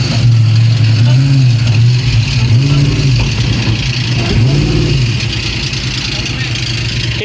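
The engine of a Ford Mustang Terminator Cobra rumbles at idle, and its exhaust rises and falls through three quick revs up close. Steady engine noise fills the background between the revs.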